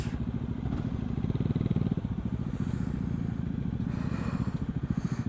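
A motorcycle engine runs close by with a steady, throbbing low rumble that holds throughout, swelling slightly midway.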